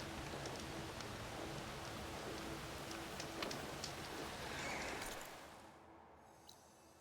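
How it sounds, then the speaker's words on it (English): Steady rain hisses and patters across the landscape of Horizon Forbidden West, a dense wash of drops that thins and fades away near the end. "Rain's letting up."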